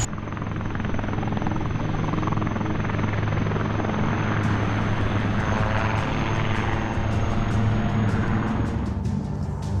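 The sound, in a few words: Prachand light combat helicopter flying past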